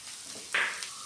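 Cabbage tomato curry frying in a pan with turmeric powder just added, giving a brief, fairly close sizzle that swells suddenly for about half a second, then settles back into a soft steady hiss.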